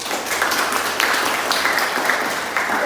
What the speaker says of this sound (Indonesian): kita berikan hadiah tepuk tangan